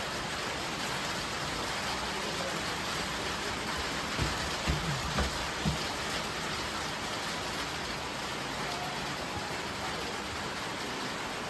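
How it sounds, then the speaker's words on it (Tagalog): Steady rain falls outdoors over garden plants, a dense even hiss close by with a few louder drops partway through and no voices. "Oh, it's raining na."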